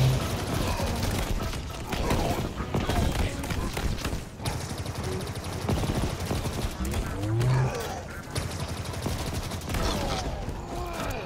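Dense, continuous gunfire from Halo Infinite, with rapid shots stacking into sustained bursts that run through the whole stretch alongside a busy game mix, and a voice speaking over parts of it.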